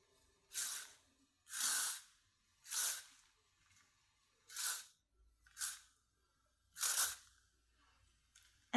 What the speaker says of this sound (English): Then I take a hairspray. I use this Elinette from L'Oreal